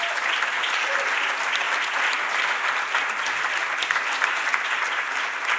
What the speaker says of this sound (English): One more round of applause for everybody the whole day.